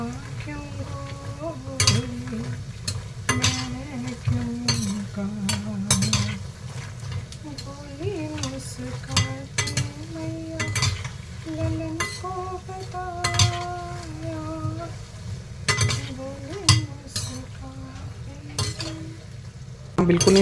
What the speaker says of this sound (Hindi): अब मैं कर रही हूँ मखाने फ्राई, और वही मखानों को भी स्लो आंच पे ही मुझे फ्राई करना है।